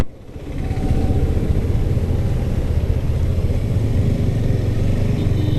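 A 2022 KTM RC 200 motorcycle engine runs at a steady, loud, close rumble, holding a continuous droning tone for several seconds with no talk.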